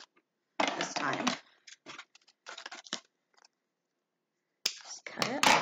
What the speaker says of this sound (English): I always cut this tags off before I give them to Chloe